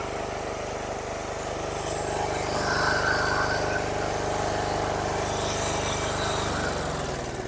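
Small diesel engine with a decompressor and key ignition, used as a pump for transferring chemicals, starting up and settling into a steady, loud, rapid knocking run close by, with no speech.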